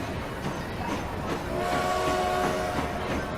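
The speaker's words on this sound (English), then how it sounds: "So there's our new train leaving the station for the first time." Train pulling out of a station in the rail-building game Transport Fever, a steady rolling rumble with a faint horn or whistle tone sustained through the latter half, continuous and moderately loud.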